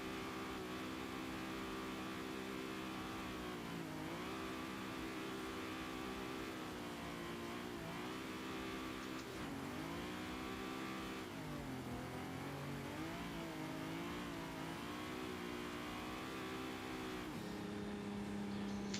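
A Toyota Supra's engine in the CarX racing game, a continuous loud mid-pitched drone that rises and dips as the car revs and shifts through drifting, with no voices.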